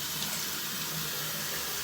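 Cold water running steadily from a bathroom tap while being splashed onto a face, a continuous close hiss of flowing water with no voices.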